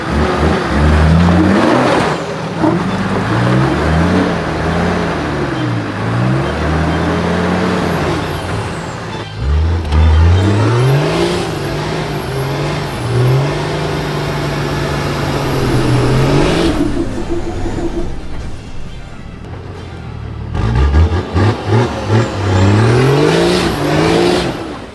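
A 4x4 car engine revs hard and loud in repeated surges through third gear as the clutch dumps on a vertical rock wall in the Watagan Mountains, pitch rising and falling with each burst, with brief high whines over the roar.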